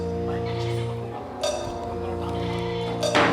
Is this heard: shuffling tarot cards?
no